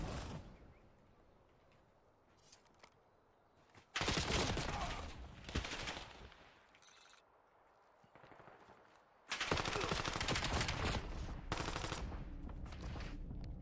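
Rapid automatic gunfire from Call of Duty Black Ops 7 ranked play erupts in two loud sustained bursts separated by quieter stretches of scattered shots, with a voice talking faintly in between.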